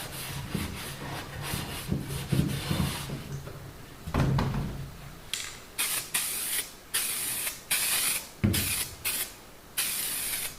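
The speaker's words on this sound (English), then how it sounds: "Just gonna spray some paint on it" An aerosol can hisses in a string of short bursts, close by, spray painting a part on a 1949 Chevy, with a few soft knocks and rustles between sprays.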